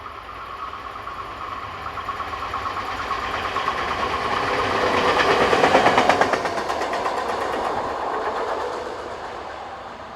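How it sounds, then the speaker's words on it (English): A 1963 DB Class 212 diesel locomotive passes on the Bremen to Hannover line, its engine rumble swelling as it nears and fading after, with rhythmic wheel clatter on the rails throughout and no voices. "This is XDB Class 212 number 107 dating from 1963 and is used on infrastructure trains throughout the country."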